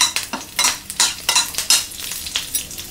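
Dried red chilli pieces and curry leaves tempering in a hot pan, with quick sizzling bursts and a spoon scraping and stirring in an uneven rhythm, close and clear with no talking.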